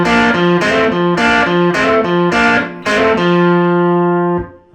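Electric guitar playing double stops, a run of five plucked chord hits followed by a longer sustained two-note chord, bright and distorted, close and alone.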